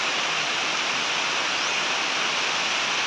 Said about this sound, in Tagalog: malakas na yung tubig dito